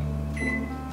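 Microwave oven running at 500 watts while heating soy milk pudding, a steady close hum with a faint tonal whine throughout the short stretch.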